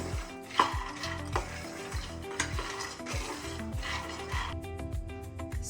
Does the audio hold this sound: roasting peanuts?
yes